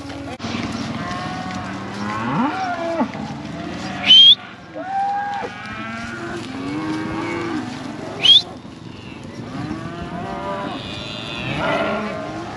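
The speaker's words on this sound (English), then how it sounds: "Sometimes the cows can run off and just disappear into the trees." Cattle low repeatedly on a long cattle drive through hill country, several moos near and far overlapping, with two sharp whistles from riders cutting through.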